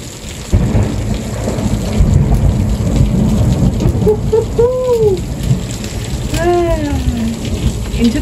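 A heavy thunderstorm roars with loud, steady rain pounding surfaces and rolling thunder close by, while faint whistling tones sound partway through.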